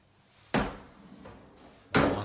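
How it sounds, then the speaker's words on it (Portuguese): A bathroom door is kicked twice, each blow a loud sharp thud about 1.5 seconds apart, with a quieter knock between them in an otherwise hushed room. "não chuta a porta não"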